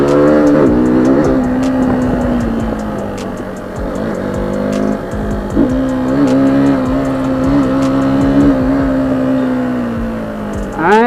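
KTM Duke 200 motorcycle ridden hard on the street, its single-cylinder engine revving and holding a buzzy drone with repeated throttle blips and gear changes, loud and close throughout.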